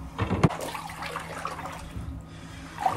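Water sloshing and splashing in a bathtub as a tuba is moved around in it, with one sharp close splash early on among softer, irregular sloshes.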